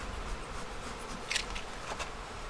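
Bees hum around a yellow hive in a faint, steady buzz, with a couple of brief louder passes as individual bees fly near.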